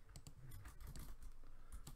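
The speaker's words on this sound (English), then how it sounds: "is my typing" Rapid typing on a computer keyboard during a Valkyrie Connect game session, a quick irregular patter of key clicks, close and fairly quiet, with no talking.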